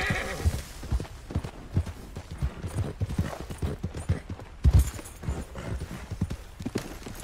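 Horse hooves clip-clopping at a rapid gallop in the Red Dead Redemption 2 video game, a steady close rhythmic pounding that continues throughout, with brief whinny-like sounds mixed in.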